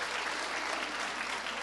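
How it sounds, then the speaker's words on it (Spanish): Dense, steady audience applause at a literary event, a brief continuous wash of clapping from many hands. "merece un gran aplauso"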